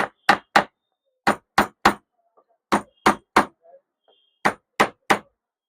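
Hammer striking a wooden block held against an electric iron during repair, loud sharp knocks in quick bursts of two or three with short pauses between, close and dry.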